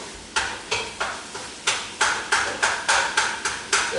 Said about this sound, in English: Mix your onion with it.